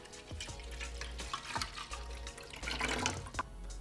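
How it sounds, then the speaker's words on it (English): Water pours from a tap into the plastic water tank of a Nespresso coffee machine, a close, steady splashing trickle with small gurgles and drips building louder toward the end. "once that's clean, reinstall it, and of course, fill up the water tank"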